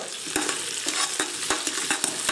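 Tomato paste stirred into browned veal bones and vegetables in a hot pan for veal stock, a steady close sizzle broken by regular scraping stirs roughly every third of a second, with no talk.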